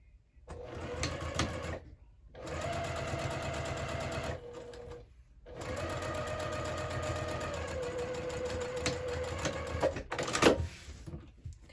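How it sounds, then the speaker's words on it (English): Close sewing machine stitching bag fabric along a marked line, whirring steadily in three long runs broken by short pauses where it backstitches, ending with a sharp click. "I'm going to go ahead and just sew right on that line, back stitching at the beginning and the end"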